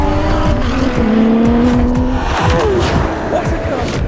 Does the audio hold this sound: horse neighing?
no